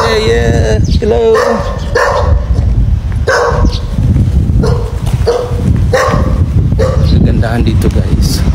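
A large dog in a Thai village barks loudly and close by, a series of repeated sharp barks spaced about a second apart that continue throughout.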